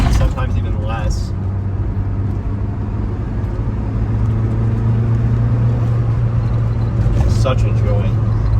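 A 1987 Saab 900 Turbo engine pulling onto boost, a loud steady drone with a rising tone heard from inside the car while someone talks over it.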